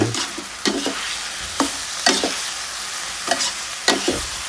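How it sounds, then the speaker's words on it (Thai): Long eggplant stir-fried with sugar and basil leaves sizzles steadily in a pan while a utensil scrapes and tosses the food in repeated short strokes, with no talking. "ผัดให้เข้ากัน เสร็จแล้วใส่ใบโหระพาลงไป"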